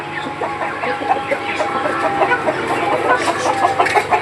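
Hens in a fiber-sheet-roofed shed cluck and chatter continuously at close range, a busy overlapping flock with no talk.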